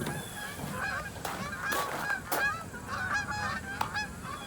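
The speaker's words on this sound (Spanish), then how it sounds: "Son patos, ¿no? Lo que suena." Repeated honking waterfowl calls, several birds calling back and forth at moderate distance over a steady outdoor background.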